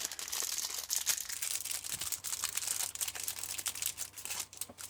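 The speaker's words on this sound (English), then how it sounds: "We'll go ahead and get our special biscuits opened up." Packaged biscuits from a Polish military ration being opened, with continuous close crinkling and tearing of the wrapper across the whole span, busy and fairly loud, with no talk.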